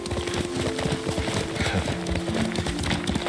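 Horse hoofbeats clip-clopping at a steady riding pace in the Ghost of Tsushima video game, rhythmic and close, layered with a droning musical tone and background ambience.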